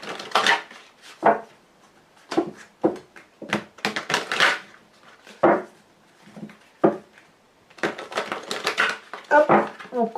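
A Lenormand card deck being shuffled and cut by hand, heard as close, crisp bursts of riffling and tapping cards that stop and start in irregular clusters, with quiet gaps between them and no talking.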